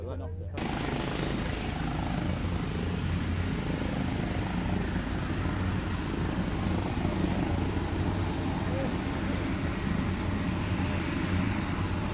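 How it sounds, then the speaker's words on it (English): Grumman S-2 Tracker Conair aircraft engine, a loud, steady, broad roar that starts abruptly and holds throughout, close by. "Oh, what a spectacular looking aircraft this is, with the Grumman TS2A Conair."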